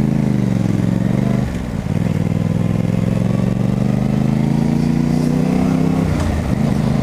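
A motorcycle being ridden, its engine droning loud and close with steady rising pitch, a short dip as revs change, then climbing again under rushing wind noise.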